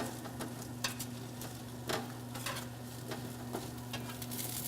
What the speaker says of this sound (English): I'm gonna just check it and give it a little stir.